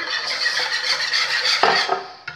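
A spoon stirs a crème brûlée mixture with petit beurre biscuits in a bowl, giving a close, steady scraping swirl with a couple of sharper clinks at the end.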